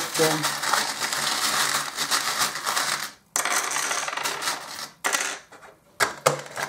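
Divination charms shaken and tossed down in a clattering metallic jingle, dense and continuous for several seconds, broken by brief pauses and renewed bursts of rattling.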